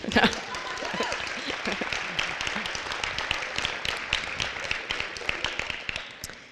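Audience applause at a Chamber of Commerce annual meeting and awards banquet: dense, even clapping from many hands, moderately distant and steady, continuing for several seconds, with faint speech underneath.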